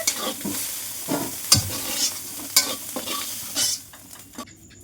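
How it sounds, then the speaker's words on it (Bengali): Prawns fry in hot oil in a kadai, a close crackling sizzle punctuated by several spatula scrapes and stirs before the sound drops away near the end. "চিংড়ি মাছগুলো কড়ার মধ্যে দিয়ে দিলাম, ভেজে নেব।"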